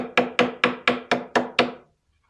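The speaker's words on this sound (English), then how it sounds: "take my hammer." Hammer tapping a razor blade between veneered boards, seven sharp evenly spaced taps in quick succession, close and clear, then silence.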